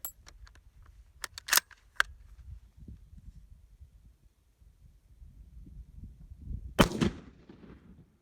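A rifle firing 1952 Chinese surplus 8mm ammunition gives several sharp reports early on, then one more loud shot about seven seconds in, over outdoor background rumble.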